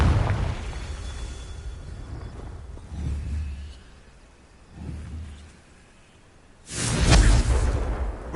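Confringo blasting curses from Hogwarts Legacy set off several booming explosions with low rumbling tails. The last blast, near the end, is the loudest and most sudden, over a dark ambient background.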